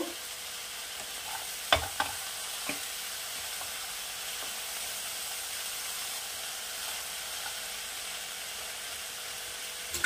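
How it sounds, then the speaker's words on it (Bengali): A spoon stirs a one-pot vegetable chicken dish with spinach just after salt goes in, a few faint scrapes and clinks over a steady low sizzle from the pan. "এবারে দিয়ে দেব পরিমাণ মতো স্বাদ অনুযায়ী একটু লবণ। একটু নাড়িয়ে নেব।"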